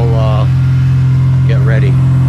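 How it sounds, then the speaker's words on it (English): A flat-six motorcycle engine idles on choke with a steady, loud low purr throughout, with brief tonal sweeps overlaid midway. "Listen to that purr, the flat six purr."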